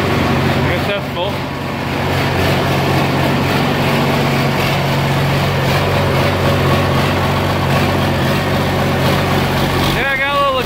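An Oliver 1855 tractor engine idles with a small exhaust leak, a loud steady low rumble with a puffing edge that runs throughout, close by.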